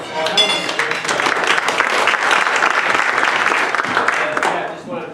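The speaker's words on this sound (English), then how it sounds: "so we got a big round of applause" At a community meeting, a room of people breaks into a hearty round of clapping with some cheers and voices mixed in, swelling quickly and tapering off near the end.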